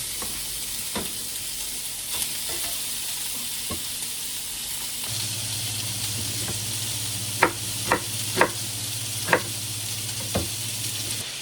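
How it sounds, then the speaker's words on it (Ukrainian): Pork fat (salo) fries in a pan with a constant, fairly loud sizzle and crackle, punctuated by a few sharp taps of a utensil toward the end, and no voices. "Просто прожарюємо сало"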